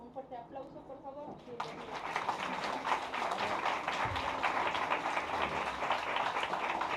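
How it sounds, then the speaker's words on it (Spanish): A school audience breaks into sustained, dense clapping after a few seconds of talk and keeps applauding steadily. "Le damos un fuerte aplauso, por favor."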